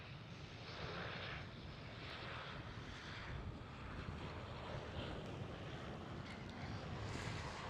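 German Airways airliner passing at Schiphol airport, a broad distant jet roar with wind noise that holds steady throughout.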